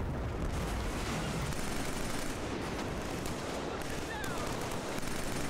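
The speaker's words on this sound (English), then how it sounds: "Oh, that's a sniper." Dense, continuous gunfire crackles in the Killzone 3 video game, a steady wall of shots and booms with sniper fire mixed in, loud and unbroken throughout.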